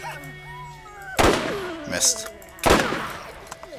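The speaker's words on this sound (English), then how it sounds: "I'm just like sitting here shooting everything" Gunfire in the video game Borderlands: two loud broadband shot bursts about a second and a half apart, each trailing off, with game music tones and a speaking voice between them.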